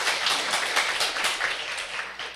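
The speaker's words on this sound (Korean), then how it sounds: "우리 박수 한번 보내주세요" Church congregation applauding for members heading out on domestic mission work, a dense, steady wash of many hands clapping together throughout, fairly close and full, with no talking over it.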